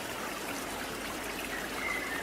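A river stream washes steadily over mossy rocks, a continuous close rushing and trickling that holds even throughout with no voices.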